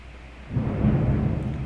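Steady rainfall hiss gives way to a deep rumble of thunder that swells halfway through and rolls on loudly to the end.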